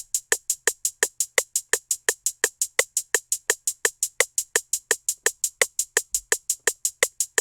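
A fast two-step drum pattern programmed in FL Studio at 170 BPM, heard alone as steady, evenly spaced crisp hits with bright hi-hat-like tops and a recurring midrange snap, looping without a break.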